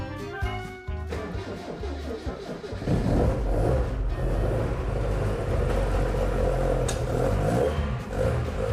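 A Lotus Esprit S3 engine being recommissioned runs close and loud, shifting from a lighter rumble to a heavy, continuous roar that holds steady with small rises as the throttle is worked.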